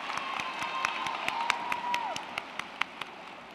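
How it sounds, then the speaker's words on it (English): Graduation audience applauding at a 2017 high school commencement, a steady wash of clapping with scattered sharp claps and a whistle rising above the crowd noise at moderate distance. "Please join me in giving these students a round of applause."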